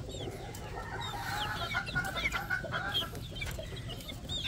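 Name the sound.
chickens, young male chicks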